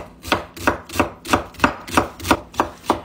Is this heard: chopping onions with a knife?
yes